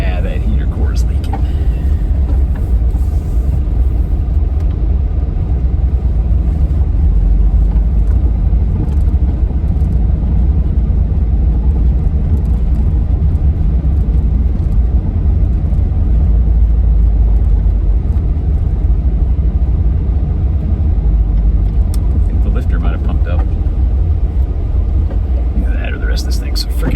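Volkswagen Vanagon with a freshly rebuilt transaxle on a test drive, giving a loud, steady low cabin rumble of engine and road noise for the whole stretch, with a voice talking over it at times.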